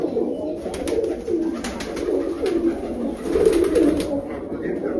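Many pigeons cooing together in a continuous, overlapping murmur, close and fairly loud, with light flutters and a voice now and then in the background.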